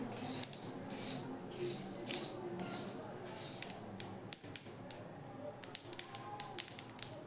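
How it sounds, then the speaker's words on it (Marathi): Sesame seeds roast in a pan, giving off faint, sparse crackles and pops at first. The pops grow quicker and sharper toward the end over a soft background hiss. "आता तडतड वाजायला लागलेले आहेत"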